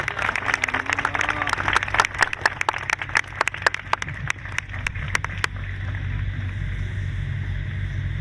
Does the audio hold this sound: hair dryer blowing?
no